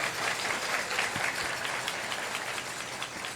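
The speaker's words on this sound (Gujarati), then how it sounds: "અમારા આયોજક સમિતિને એક વખત તાળીઓના નાદથી આપણે વધાવીએ." An audience at a religious festival gathering in Vadtal breaks into sustained, dense applause, a steady wash of many hands clapping throughout.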